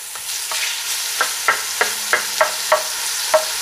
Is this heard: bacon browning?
yes